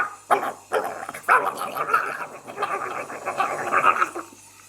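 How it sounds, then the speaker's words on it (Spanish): A Pekingese and a Chihuahua fight, with a tangle of sharp barks, yips, snarls and whimpers that comes in loud, close bursts and keeps going without a break. "una pelea de pequinese con chihuahua"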